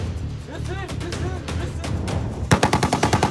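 A 12.7 mm machine gun fires aboard a warship in a loud, rapid run of about eight evenly spaced shots. Busy background sound comes before the burst.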